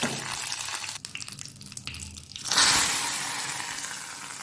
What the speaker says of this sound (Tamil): இப்போது ஸ்டவ் ஆஃப் பண்ணி ரசத்தில் கொட்டிக்கலாம்